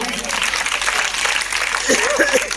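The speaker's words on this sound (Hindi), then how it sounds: "तो एक बार जोरदार ताली बजा दो" Rural women clap together at a Teej cultural celebration, a dense, steady patter of applause that lasts throughout, with a voice speaking over it toward the end.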